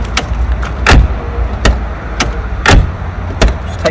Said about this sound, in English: You won't get a better door shut than that.